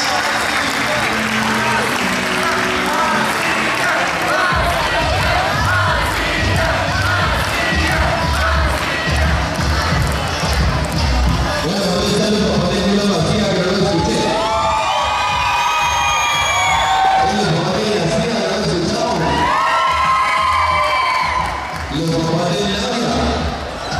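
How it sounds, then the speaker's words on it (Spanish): An indoor crowd claps and cheers as a youth volleyball club enters at a tournament opening ceremony, sustained applause with shouts and whistles while an announcer talks over a PA system. "Recibamos con un fuerte aplauso"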